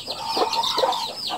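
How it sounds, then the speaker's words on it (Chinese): A hen clucks protectively over her chicks with a rapid run of close, loud, agitated clucks and short squawks repeating through the moment. "母鸡在保护小鸡哦，它担心我攻击它的小鸡"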